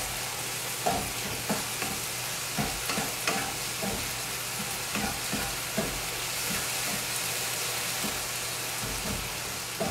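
Ingredients for cranberry mandarin bars get mixed together in a bowl, a run of repeated spoon or spatula scrapes and soft taps in an irregular rhythm over a faint background hum, with no speech.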